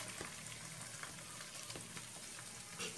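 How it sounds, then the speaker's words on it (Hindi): Chopped ginger and garlic frying with cumin seeds in oil in a kadai, giving a soft, steady sizzle with a few faint stirring sounds. "इसे हल्का सा भून लेंगे।"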